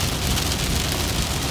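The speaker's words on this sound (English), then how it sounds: "And it's raining." Steady, dense hiss of rain pouring down, loud and continuous with no voices.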